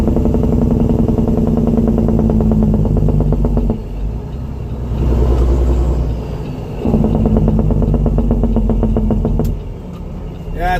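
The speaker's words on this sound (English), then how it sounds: "it's a 2007 Peterbilt C15 Cat with an 18 speed" A 2007 Peterbilt truck with a C15 Cat engine and 18-speed transmission hauling snow, its loud deep diesel rumble running steadily up close, dipping briefly twice as it shifts before pulling again, with faint talk in the cab.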